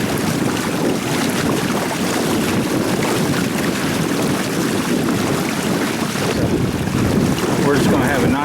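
A Hobie Tandem Island sailing kayak cruising at speed over open water, with steady rushing wind, hull splash and wave wash close to the microphone.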